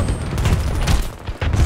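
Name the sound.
gunfire in Battlefield 2042 video game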